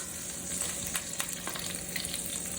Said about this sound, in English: we're supposed to add a little bit of butter and let that melt